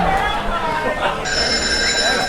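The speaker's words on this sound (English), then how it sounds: "Oh, we have a phone call coming in." A telephone rings for an incoming call on a live comedy podcast stage, its repeated bell tones steady and loud over people talking and murmuring in the room.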